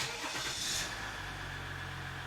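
A 2018 Dodge Ram Laramie pickup truck that previously would not crank cranks briefly, then catches and settles into a steady idle hum. The sound is fairly quiet and heard from nearby, with no speech.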